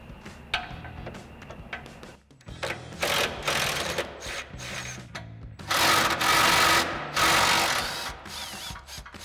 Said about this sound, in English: So we'll grab our 13mm socket and extension on our impact and go ahead and get those off.